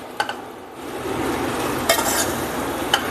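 Tomato idiyappam being mixed in a pan, a continuous close sizzle and hiss with a few sharp utensil clinks against the metal.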